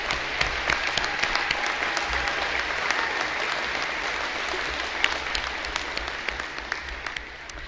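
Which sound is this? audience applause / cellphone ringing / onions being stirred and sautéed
audience applause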